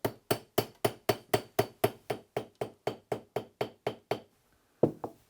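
A hammer taps beauty shears to adjust the set: a rapid, steady series of sharp metallic knocks, about three per second, close and loud, pausing briefly near the end before two more strikes.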